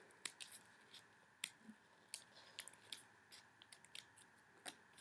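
Scissors cut through paper in short, sharp snips, faint and close, spaced irregularly across about five seconds with quiet gaps between cuts and no voices.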